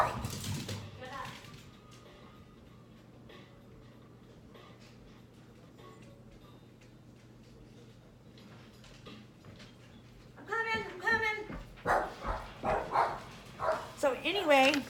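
Several dogs barking indoors in quick, excited bursts, close and loud, following a quiet stretch.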